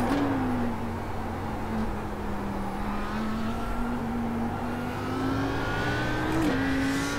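Race car on the Nordschleife circuit, engine held at a steady drone inside the cockpit with a brief pitch dip as it brakes, then climbing again as it re-accelerates.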